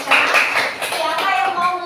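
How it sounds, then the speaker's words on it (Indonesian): Schoolchildren clapping together in a classroom, a short burst of close, scattered applause over a brief moment with young voices talking along with it. "kasih tepuk tangan buat kita semua."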